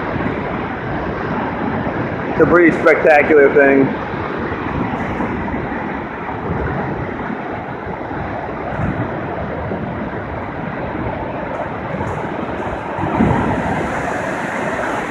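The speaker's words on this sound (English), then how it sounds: "where the water comes rushing down at about 75 to 80 miles per hour" Water from a dam outlet rushes down at roughly 75 to 80 mph and crashes below, making a loud, steady broadband roar that runs through the whole clip, with a short burst of extra noise near the start and someone speaking briefly over it.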